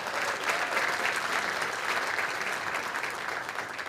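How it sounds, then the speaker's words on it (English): Sustained applause from an audience at a Fulton County Schools event honoring Banneker JROTC students, dense even clapping at moderate distance, steady for the whole span with no talk over it. "Please give me one more round of applause for our Banneker JROTC students."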